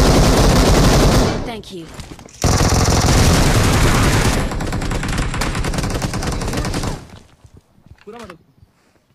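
Rapid automatic gunfire bursts from the BGMI mobile battle royale game, loud and dense for several seconds and then tapering, with players talking over it.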